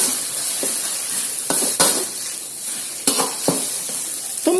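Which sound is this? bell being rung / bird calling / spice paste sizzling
spice paste sizzling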